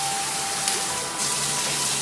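A shower head sprays water in its standard rain mode, a steady broadband hiss of falling water that runs evenly and continuously, close and fairly loud, with no voices over it.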